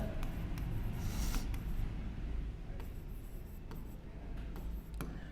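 A pen scratches across paper while a Class 10 maths problem is worked out, giving close, soft strokes and short scribbles over a steady low background hum.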